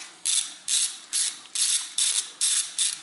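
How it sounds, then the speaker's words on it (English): A 10 mm socket ratchet turns to loosen a bolt on a Toyota Avensis, giving seven evenly spaced bursts of close, crisp clicking with short pauses between strokes. "here is my 10 millimeter socket. And there's my friends, and I insert that in here. Then I open that."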